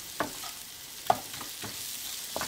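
A spiced dosa batter mix for fasting food is stirred and cooked in a pan: quiet scraping strokes at irregular intervals over a faint, low sizzle.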